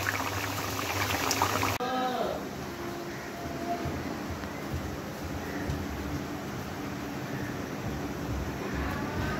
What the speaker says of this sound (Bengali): মাংস আগে রান্না করতেছে